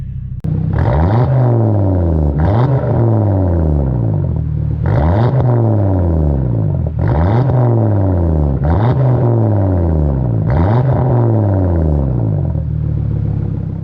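A 2019 Audi RS3 engine revs repeatedly, about seven loud close sweeps climbing and falling in a steady rhythm, with a deep rumbling tone.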